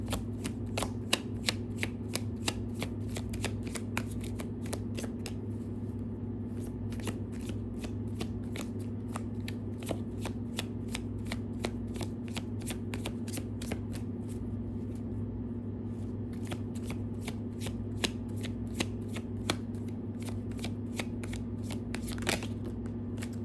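Tarot cards shuffled steadily by hand for a long stretch, giving a constant soft riffling with frequent crisp snaps and flicks over a low steady hum, close and fairly quiet, with no talking.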